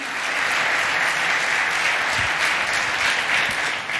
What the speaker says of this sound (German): Ja, wirklich, es hat einen Applaus verdient.